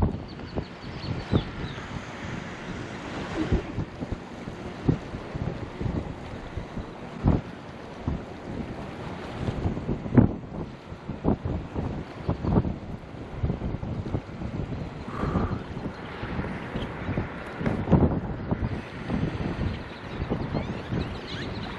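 Wind gusting over a lake and buffeting the microphone while fishing from a boat at Braunig Lake, a steady rushing roar with faint water lapping against the hull throughout.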